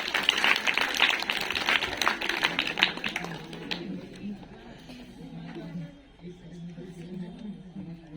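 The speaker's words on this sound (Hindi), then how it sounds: "इनका हम सब जोरदार तालियां" Loud applause from an audience at a school program on girls' education, dense clapping for the first four seconds and then fading into low murmuring chatter.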